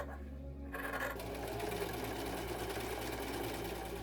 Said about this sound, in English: Then we can get to sewing the pant legs together and we have something resembling pants.